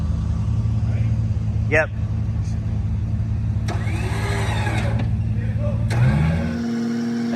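A Ford Excursion's engine drones and revs while stuck in a sandy wash, a steady close motor hum with surges, while people talk briefly over it.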